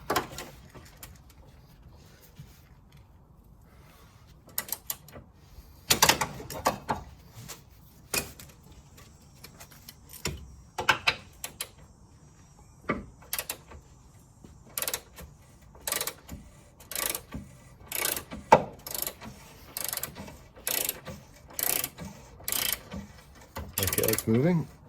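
Repeated clicking bursts from a 19 mm ratchet wrench working lower control arm bolts on a 2003-2008 Toyota Corolla, scattered in short, irregular runs that grow more frequent later, with quiet gaps between them.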